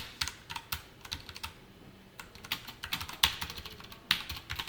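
Code being typed on a computer keyboard during a JavaScript and jQuery lesson: quick irregular clusters of key clicks with short pauses, close and fairly crisp, with no talking.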